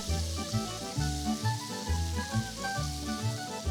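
Steak frying in a hot pan with a knob of butter melting on top, giving a steady, close crackling sizzle with rhythmic bubbling throughout, no voices.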